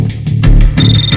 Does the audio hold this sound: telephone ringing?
yes